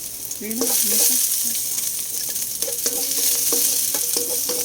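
Garlic sautéing in a hot pan, a loud continuous hiss and crackle up close, with intermittent metallic stirring scrapes and a faint tonal hum in the background.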